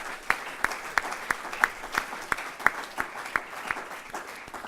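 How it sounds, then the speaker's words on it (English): A small audience gives sparse applause, a thin sequence of distinct, evenly spaced claps at moderate volume over a quiet room. "Please give them a round of applause."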